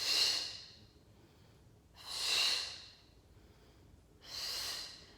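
Three long, audible breaths during a Pilates mat exercise with a mini ball, each a forceful airy whoosh lasting about a second, evenly spaced and close, with no talk between them.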